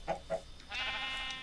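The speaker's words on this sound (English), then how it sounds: "I hear sheep." Sheep bleat up close in the game New World: two short bleats followed by a longer wavering bleat, alone without talk.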